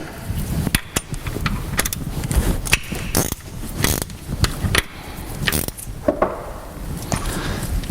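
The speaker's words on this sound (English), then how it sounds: "using a special extractor going to wind it and tighten it back up" Close mechanical ratcheting and metallic clicks as a special stud extractor winds in and tightens a stud on the water pump of a Land Rover Discovery 300TDI, with irregular sharp taps and clunks throughout and no talking.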